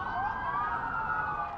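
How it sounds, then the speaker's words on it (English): A wailing police emergency siren sounds continuously and loudly on the streets of Las Vegas, its pitch sliding steadily upward. "Sirens blared through the streets of Las Vegas"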